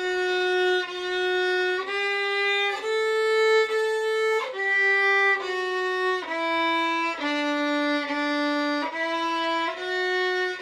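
Solo violin bowing the opening two lines of Ode to Joy at a slow tempo, with each note sustained and clearly separated. Close and clean, with no other sounds.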